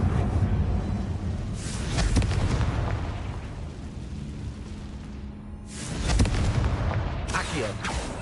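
A Confringo blasting spell in Hogwarts Legacy goes off as a pair of loud, broad bursts, the first near the start and a second fuller blast around the middle, ringing out over a rumbling game soundscape with no talk.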